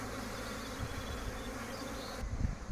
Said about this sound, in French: avec toutes les abeilles devant les ruches là